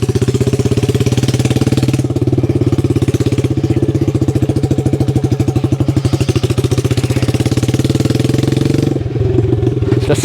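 A 1969 Honda CD90 motorcycle engine runs steadily, a loud continuous single-cylinder chug with a rapid pulsing beat, briefly dipping near the end before resuming; no talking.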